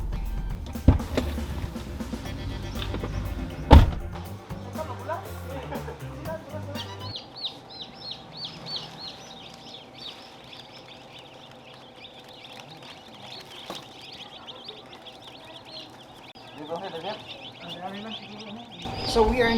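Newly hatched chicks being taken from an incubator on a free-range chicken farm make a dense, continuous high chirping, with people talking nearby.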